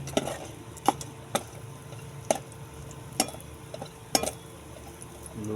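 Ginger frying in a pan is stirred with a utensil, producing a quiet background sizzle broken by a series of sharp scraping clinks every half-second or so.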